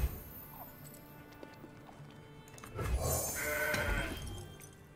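Goat card played in the Legends of Runeterra video game, a short synthetic bleating cry with magical chiming, rising in loudness near the end, over a quiet ambient music bed.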